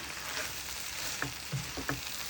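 Abacha and spices are stirred in a pan, a soft steady sizzle under a few distinct spoon scrapes and taps against the pan.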